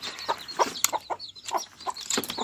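Desi hill chickens cluck close by in a home coop, giving a run of short, irregular clucks and calls with a brief squawk, no talk over them.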